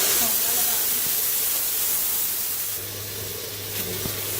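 Steady broadband hiss of water sizzling in hot spiced ghee with tomatoes, continuous throughout, close and fairly loud, easing slightly toward the end.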